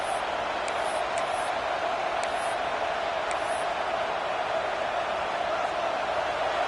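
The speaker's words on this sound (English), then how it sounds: "The roar of the crowd trying to fuel this defense to keep them pinned in their own end" Crowd roar from a College Football 26 head-to-head game, a steady, dense wash of stadium noise holding at constant loudness throughout with a few faint higher accents on top.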